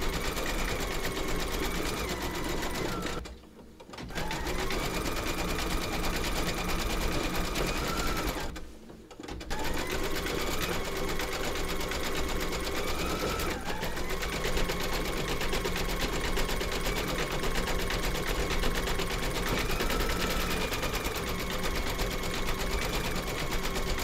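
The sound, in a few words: embroidery sewing machine stitching the bunny's foot pads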